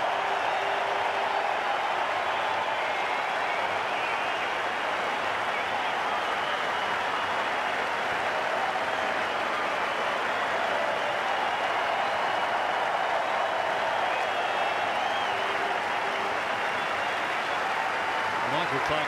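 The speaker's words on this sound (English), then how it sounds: "And the crowd are all up, as they should be." A cricket crowd at the SCG gives sustained, dense applause as the stands rise for Ricky Ponting's Test century during a second Test, a steady roar of clapping and cheering that continues unbroken throughout.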